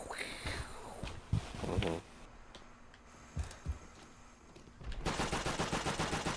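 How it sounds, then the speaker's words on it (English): Sniper rifle shots in an old-school Call of Duty match ring out as sharp, loud cracks, with a few isolated bangs followed by a rapid burst of gunfire at the end. "I love that sniper sound."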